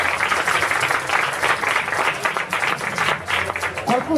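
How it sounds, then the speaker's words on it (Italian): Audience applause for author Francesco Troccoli at the presentation of his book "Mondi senza tempo", a steady dense wash of clapping filling the room, with a voice briefly emerging near the end. "Qui ci vuole secondo me un altro applauso per lui."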